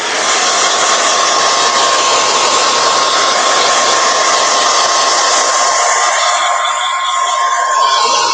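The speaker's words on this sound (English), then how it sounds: "I'm going to get the hairdryer a little bit more" Hair dryer blowing over a resin coat on a journal, a loud close continuous whirring roar with a steady tone that runs unbroken throughout.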